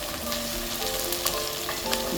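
Egusi melon seeds fry into crumbs in a pot for cassava leaf black soup, giving a steady close sizzle with scattered crackles and the occasional scrape of stirring.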